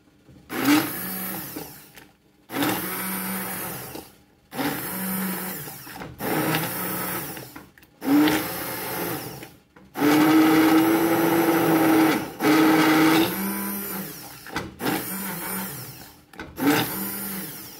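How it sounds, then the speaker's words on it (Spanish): An electric coffee grinder grinding coffee in a home kitchen runs in a series of loud motor bursts, roughly two seconds each with short pauses between and one longer sustained run in the middle. "Entonces aquí lo voy a moler."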